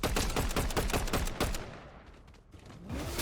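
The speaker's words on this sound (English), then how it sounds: "I think he's gonna shoot at the NPC" Dense bursts of rapid gunfire in a Fortnite Chapter 6 Season 4 zero build match, loud and sustained for about a second and a half, then fading into quieter scattered shots and game ambience.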